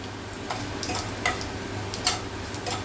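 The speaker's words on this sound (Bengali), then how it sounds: "একটা তেজপাতা আর গোটা গরম মশলা গোটা গরম মশলা ফোড়নে দিলাম" Bay leaf and whole garam masala sizzle in hot oil, a low steady frying hiss with a few faint ticks and pops scattered through it, no talking.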